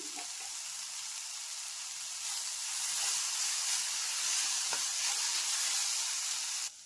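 Garam masala and salt mixture frying in a pan for masala toast filling, a continuous bright sizzle and hiss that swells slightly midway and cuts off abruptly at the end.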